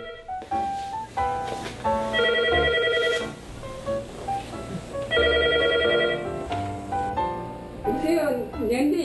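A telephone ringing in a Korean home, its repeated electronic ringtone melody sounding in clear bursts over background music, as an elderly woman calls a friend to check in.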